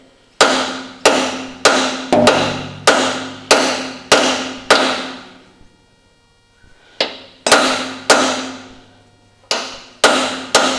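Hammer blows strike a Ferguson TE20 tractor draft link to drive it out, sharp metallic clangs in steady bursts of about one per half second, a short pause, then more blows, loud and close with no talk.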